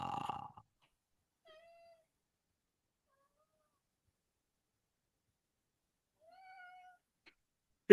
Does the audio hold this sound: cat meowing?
yes